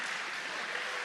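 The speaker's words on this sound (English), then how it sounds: "Standing ovation from the crowd." Crowd at a sword-fighting tournament in Italy gives a standing ovation, a steady, dense wash of clapping that fills the whole moment with no talk over it.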